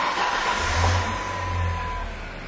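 Engine of a 1997 Ford truck running loud and close, a steady low rumble with a slight swell in revs partway through, no voices.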